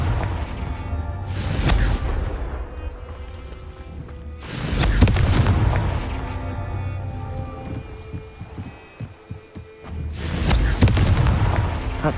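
Confringo fire spell explosions in the game Hogwarts Legacy: three loud, booming blasts spread a few seconds apart, each followed by a rumbling, crackling decay.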